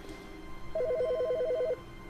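A telephone rings in the video game The Stanley Parable, one short burst of rapid electronic trilling, clear and fairly close, with a faint hum in the background.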